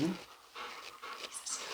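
A dog pants in quick, breathy bursts close by, with brief pauses between runs, in a casual indoor setting.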